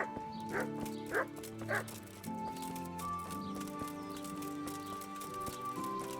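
A dog barks three times in quick succession in the medieval video game Kingdom Come: Deliverance, loud and near, over a steady droning musical score that carries on after the barks stop.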